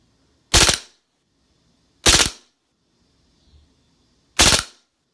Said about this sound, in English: I'm just going to do just a couple bursts of the full auto mode